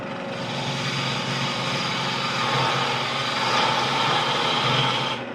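A lathe spins an offset multi-axis spindle while a chisel cuts wood and air, giving a loud continuous machine drone with a steady rough scraping texture.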